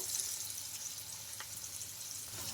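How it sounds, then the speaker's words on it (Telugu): Peanut and rice snacks fry crisply in oil in a kadai, a soft, steady sizzle with fine crackling throughout and a faint stir midway. "చాలా తొందరగా బాగా ఫ్రై అయిపోతాయి క్రిస్పీగా"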